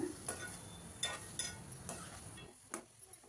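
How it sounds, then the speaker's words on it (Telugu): Cut eggplant pieces stirred in a pan, giving a soft steady frying hiss with several scraping strokes of a spoon, close by and fairly quiet, with no talking. "కట్ చేసుకున్న వంకాయలు వేసేసుకుందాము. వేసుకొని ఒకసారి బాగా కలిపేసుకొని కొంచెం వేగనిద్దాము."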